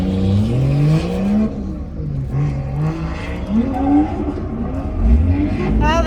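A car accelerates hard during a passenger ride-along at a car event, its engine note climbing and dropping through repeated rising revs, loud and close, with brief tire squeal and wind whir.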